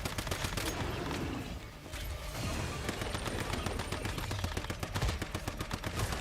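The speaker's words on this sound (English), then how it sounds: "I'm shooting him in his taint." Gunfire in the survival shooter Once Human: dense, rapid automatic bursts that crack steadily through the whole stretch, loud and close, with a brief lull before the firing resumes.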